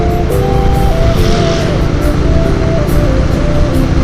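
Busy road traffic in Bukittinggi heard from a moving motorcycle: dense engine drone and wind roar with passing vehicles and a wavering tonal engine whine, loud and continuous without talk.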